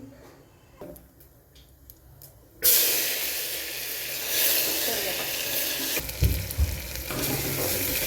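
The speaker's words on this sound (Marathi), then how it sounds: "आपण हे तयार केलेलं वाटण टाकायचं तेलात परतण्यासाठी" Ground spice paste hits hot oil with tempered cumin and mustard seeds, giving a sudden loud sizzle, then fries in a steady crackling hiss, with a few stirring scrapes toward the end.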